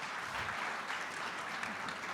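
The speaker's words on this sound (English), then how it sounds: "a round of applause to this audience." An audience claps at a healthcare forum, with brief, steady applause heard at a low level for about two seconds.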